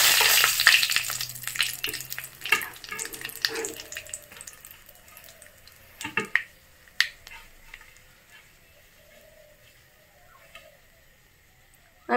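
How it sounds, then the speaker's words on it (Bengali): Nigella seeds and dried red chillies dropped into hot oil for a Bengali palak paneer, crackling and sizzling loudly at first, then settling to a quieter spatter with a few sharp pops. "এখন ওই তেলে সম্বাদ দিয়ে দেবো আমি কালো জিরা।"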